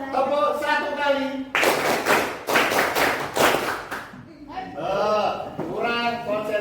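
Classroom group of students responding to a teacher's clapping cue, with a burst of several sharp claps between stretches of someone speaking.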